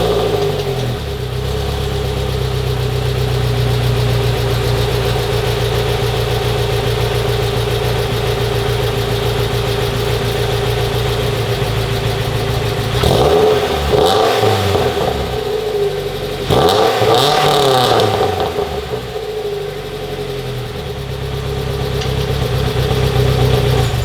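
A cammed 2.5-litre NC Miata engine with a Super Q muffler, OBX mid-pipe, high-flow cat and catless headers idles with a steady low drone, then revs sharply twice, each rise and fall loud and close.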